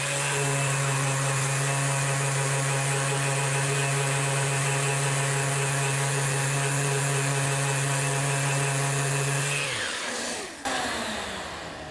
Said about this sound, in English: So with the vacuum running, I can hear the suction coming through these holes.